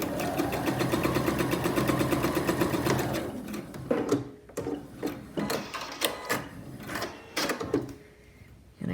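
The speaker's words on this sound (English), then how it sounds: "And I do love that my sewing machine does the cutting off for me." A domestic sewing machine stitching fabric for a mask, a steady fast mechanical whir at close range for several seconds, then slowing into irregular clicks and short bursts as the built-in cutter trims the thread.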